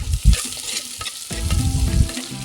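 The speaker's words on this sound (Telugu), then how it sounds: "పచ్చిమిరపకాయ ముక్కలు, కరివేపాకు వేసుకొని బాగా వేయించుకోవాలి." Green chillies, curry leaves, ginger and garlic frying in a clay pot, a steady close sizzle with scraping stirs and a couple of louder low knocks, no voices.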